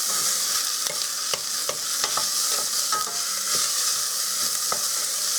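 Food browning in olive oil in a pan gives a bright, constant sizzle, punctuated by light clicks and scrapes of a utensil stirring, heard up close with no voices.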